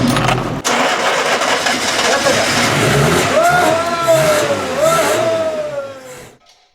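A Yugo, abandoned in the desert for 15 years and fed fuel through its carburetor, cranks briefly and then catches, settling into a loud, close, revving small engine that fades out at the end.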